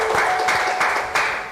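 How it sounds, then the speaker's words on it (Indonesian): Audience applause greeting a guest speaker at an Indonesian community gathering, a dense burst of clapping lasting under two seconds with slight swells and no voices over it. "Tepuk tangan untuk Pak Kamiludin"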